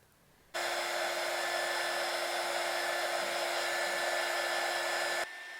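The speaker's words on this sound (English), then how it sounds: "start with a heat gun or a hairdryer for about 10 minutes" A hair dryer switches on and blows with a steady whirring hiss for several seconds, drying a silver clay ring, then cuts to a lower setting.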